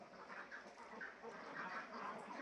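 Several ducks quacking in scattered bursts over a steady background hum, moderately close and fairly quiet, with no one talking.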